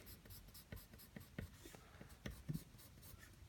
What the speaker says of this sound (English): you could cross hatch